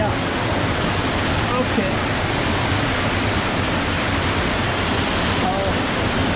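A waterfall in Looper Canyon on Vancouver Island roars close by as a constant, loud rushing wash of water, with a brief spoken word over it.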